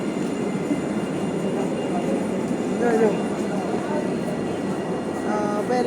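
A metro train at night in Jerusalem, heading toward Central Station, gives a continuous rumbling ride noise with faint squeals, while people talk in the background throughout.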